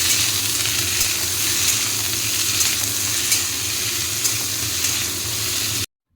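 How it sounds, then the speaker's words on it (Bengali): Chopped tomato, green chilli and ginger sizzle steadily in a hot pan while being stirred, a close, even frying hiss that stops abruptly at the end. "টমেটো, কাঁচা লঙ্কা আর আদা কুচোটা দিয়ে দিলাম।"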